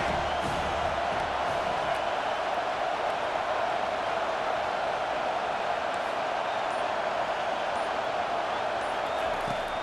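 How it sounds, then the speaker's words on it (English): A football stadium crowd in College Football 25 roars steadily and continuously, a dense, loud wash of cheering with no breaks, as the noise builds during a third-down defensive stand. "Decibels rising as the crowd gets behind this defense on third down"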